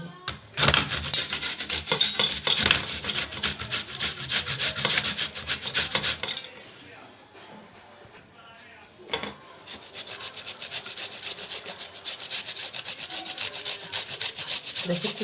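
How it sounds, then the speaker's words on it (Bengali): Kohlrabi rubbed against a hand grater for a curry: steady, rapid scraping strokes, close and loud, pausing briefly midway and then resuming at the same brisk rhythm. "এবার ওলকপিটাকে আমি এরকম করে ঘষে নেব।"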